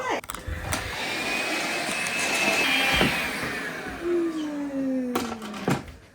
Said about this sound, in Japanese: 掃除機をかけろ。